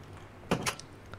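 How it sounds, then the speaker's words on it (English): A door in a Minecraft horror map set in a haunted Alcatraz powerhouse shuts with two quick muffled thuds over a low steady background hum. "Why did the door close behind me?"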